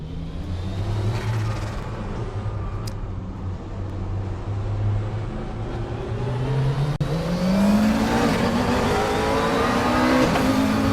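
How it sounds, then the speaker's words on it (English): A racing car engine drones at steady speed, then revs up and climbs in pitch as it accelerates, loud and continuous with no talking. "Engine of the car sounds pretty well."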